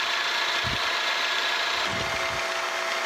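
A metal planer takes a cut under steady loud machine noise, with a few low thumps as the stroke works across the metal.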